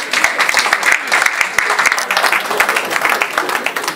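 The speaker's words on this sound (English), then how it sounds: "There's a hand clap." Steady applause from an audience at a Liberian community association gathering in Minnesota, a dense, continuous patter of many hands clapping throughout, fairly loud and close.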